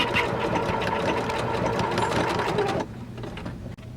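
A Janome sewing machine stitches a quilt toward a corner with a fast, even mechanical chatter of the needle, close and steady for about three seconds before it stops abruptly, followed by a faint click.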